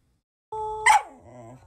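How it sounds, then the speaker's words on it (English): A dog gives a short tonal whine and yelp, sustained briefly and then rising into a sharp bark-like cry before trailing off. "My dog will be also kind of singing as well."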